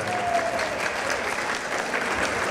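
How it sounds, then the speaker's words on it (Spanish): Steady, dense applause from a concert audience at a live show at Expo Forum, filling the room evenly at a loud, unbroken level throughout. "Aplausos, por favor."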